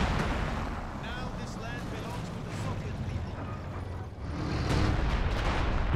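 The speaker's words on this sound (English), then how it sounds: "you want to stop barraging right now with your howitzer" Howitzer artillery barrage in Company of Heroes 2 booms and rumbles continuously as dense, overlapping low blasts with occasional sharper reports, swelling louder near the end, while someone talks over it.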